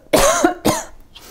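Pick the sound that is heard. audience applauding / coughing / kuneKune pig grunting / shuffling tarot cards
coughing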